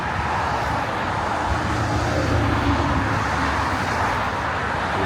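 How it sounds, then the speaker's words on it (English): Steady traffic rolling along a roadside in Pennsylvania, a continuous broad rumble of passing cars that stays fairly loud and even throughout with no talking. "Hear that traffic rolling by."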